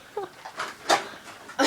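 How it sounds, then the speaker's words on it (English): A pet dog gives a few short, scattered barks and yelps, fairly close and moderately loud, spaced across a brief indoor moment with no talk. "I got a pet dog. It will bark at you."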